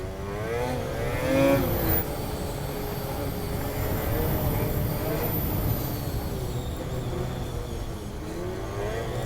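A 2026 XCR 9R 137 snowmobile drives along with a continuous loud engine drone and some shifts in revs. A faint flywheel tick may sit under the engine noise, and no one speaks.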